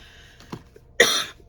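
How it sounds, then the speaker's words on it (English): A woman crafting a junk journal with a fabric cover gives a single short, sharp cough after a faint throat sound, close and alone in a quiet room. "I've been coughing quite a bit, just the cough"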